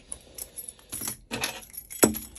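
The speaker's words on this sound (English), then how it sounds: "Also two sets of keys." Two sets of keys for a 2017 Kontiki Black Edition 649 motorhome jangle close by in several short metallic bursts, ending in a sharper clink, with no talk.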